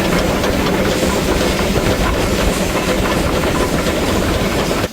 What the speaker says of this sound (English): That's 120 tons of thrashing steel, 8 cylinders and 40 wheels, 24 of them coupled.